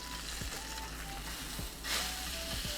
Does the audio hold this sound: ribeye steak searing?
yes